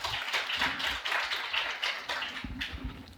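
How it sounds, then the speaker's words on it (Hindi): A small group of hands claps in a classroom, a steady run of close, crisp claps that stays fairly faint and continues without talk over it. "ताली हो जाए भाई 74 वाले के लिए।"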